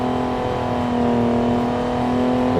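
Car engine in the Pursuit Force video game drones steadily with a strong, even hum and layered harmonics for the whole stretch, close and loud, with no voices over it.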